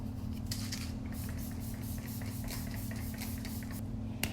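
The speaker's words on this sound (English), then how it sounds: "Then I'm gonna go ahead and spray my face again, and I'm using another spray." Several quick hissing spritzes from a Glam Glow face setting spray bottle come in a loose series over a steady low background hum.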